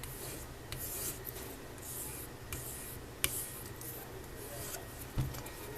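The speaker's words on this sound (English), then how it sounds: "you maintain your edge with a strop" A leather-working knife is drawn back and forth across a strop in quick, repeated rubbing strokes, close and fairly soft, with a couple of sharper taps as the blade turns.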